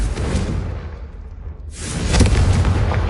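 Confringo fire spell in the Hogwarts Legacy video game, a whooshing cast followed by a loud, deep booming blast that rolls on after a brief lull.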